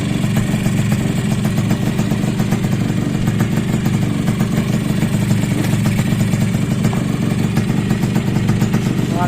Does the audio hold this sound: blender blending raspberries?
no